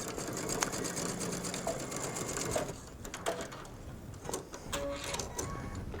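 A sewing machine stitching forward and back over elastic, a steady close mechanical whir that slows and stutters in short bursts as it reverses, without talking.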